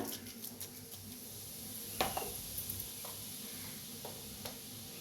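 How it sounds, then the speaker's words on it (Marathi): Mustard seeds and cumin hit hot oil in a pan, giving a steady, low sizzle with scattered light crackles and a few sharp pops, and faint clinks of a utensil are heard, with no voices. "तेल चांगलं गरम झाले त्याच्यात टाकूया अर्धा चमचा मोहरी अर्धा चमचा जिरा"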